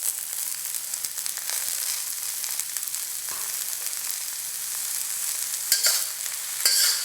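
Oyster mushrooms stir-fry in a hot pan for a Chinese-style dish, giving a steady loud sizzle with scraping stir strokes and a few sharper clatters near the end, no voices.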